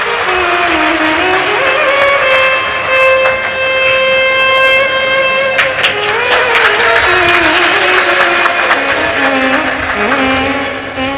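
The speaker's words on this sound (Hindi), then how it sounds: "एक बार जोरदार ताली बजाओ इस बालक के लिए।" A large crowd at a Shiv Mahapuran katha gathering in Sehore claps loudly for a boy, the clapping building into dense bursts over strong sustained musical tones that run throughout.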